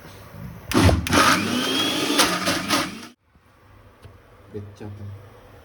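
Kitchen mixer grinder whirring loudly close by for about three seconds, then cutting off abruptly, followed by quiet room sound and faint movement.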